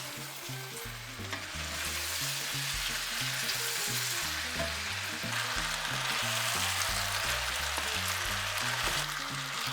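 Carrots fry in a pan for a Greek artichoke dish, a dense steady sizzle heard close throughout over a low rhythmic musical backing.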